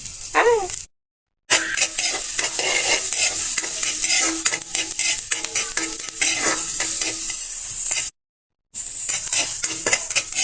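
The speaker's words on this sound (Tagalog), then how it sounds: "magigisa na tayo, mga sis. Lagay na natin yung ating bawang at sibuyas" Garlic and onion sautéing in a pan, a loud steady sizzle with stirring scrapes throughout, broken by two short silent gaps.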